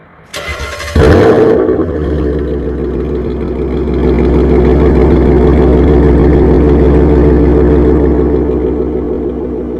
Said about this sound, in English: let's just go ahead and do this startup so you can hear how it sounds